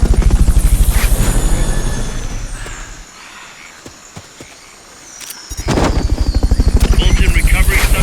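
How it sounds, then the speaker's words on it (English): A loud, close helicopter in the video game Metal Gear Solid Peace Walker beats with rapid rotor thumps, fades to near quiet with a few sharp clicks and pops, then roars back in. "Fulton recovery subject confirmed onboard helicopter"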